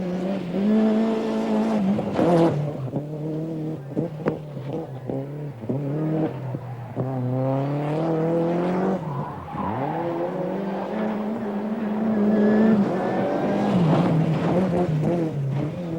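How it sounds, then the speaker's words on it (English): 1989 rally cars racing around the twisting Silverstone layout, with engines revving up and down through gear changes and tyres squealing, loud and close, one car after another passing. "just look at this for confident car control around the twisting layout at Silverstone"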